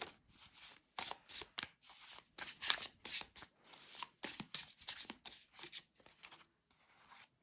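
Tarot cards adjusted and shuffled by hand, a quiet close run of rapid papery riffles and flicks in irregular bursts, with no talking.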